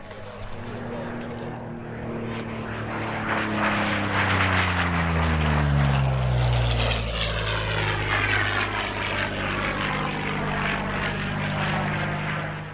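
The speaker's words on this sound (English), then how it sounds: "We start with the Battle of Britain and a Spitfire Mark 9 and Hurricane Mark 12 from the Dakota Territory" Spitfire Mark 9 and Hurricane Mark 12 warbirds from the Dakota Territory Air Museum flying at an airshow, propeller engines droning and swelling as they pass overhead with a pitch drop, while a commentator speaks over the sound.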